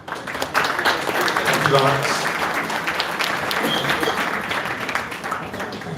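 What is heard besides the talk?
conference audience applause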